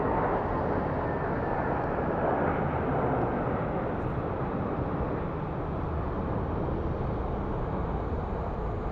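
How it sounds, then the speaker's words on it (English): Jet airliners on final approach into Phoenix Sky Harbor International Airport at night, heard as a steady, broad, distant roar that holds for the whole stretch with no voices over it. "So those are all planes on final."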